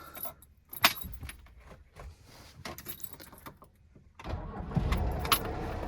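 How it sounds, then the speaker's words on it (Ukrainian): A VAZ 21011 car being started: faint jingling of keys and clicks, then the engine turns over and catches near the four-second mark, settling into a steady close idle. "Ідеально заводиться, моторчик працює."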